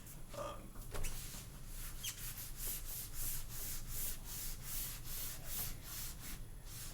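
A slightly crusty eraser carrying some whiteboard cleaning solution rubs across a whiteboard, making steady, quiet, dry scraping strokes with no voices.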